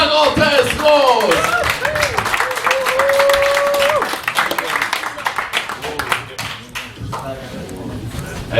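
An audience applauds and claps at a live comedy show, loud dense clapping with shouts and voices over the top that thins out toward the end.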